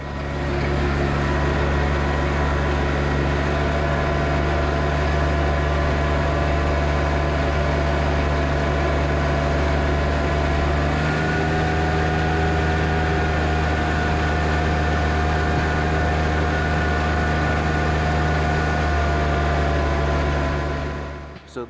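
A John Deere 1025R compact tractor runs during snow removal, its engine a loud, steady, close droning hum that holds unbroken for the whole stretch.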